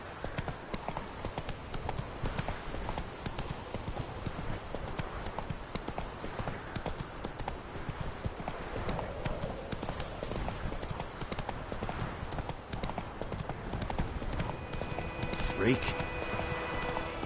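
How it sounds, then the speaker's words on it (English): Horse galloping in The Witcher III video game, with a steady, rapid clip-clop of hooves running throughout and someone briefly speaking over it. "Run, Roach."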